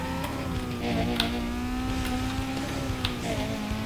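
Car engine in Need for Speed Most Wanted, a steady sustained engine drone with rising and falling pitch, moderately loud and continuous with no talk.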